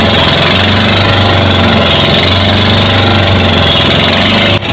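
A motorboat engine runs steadily at sea, a loud, close, continuous drone with a low hum that holds without a break, then cuts off abruptly right at the end; no talking.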